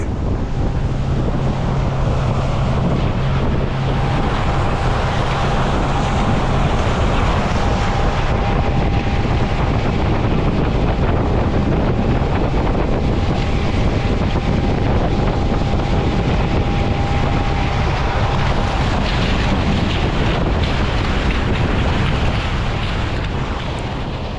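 A boat rides over the sea off Phuket, water spraying and splashing beside the hull under a constant loud rush of wind, wave noise and engine drone that fills the whole stretch without a break.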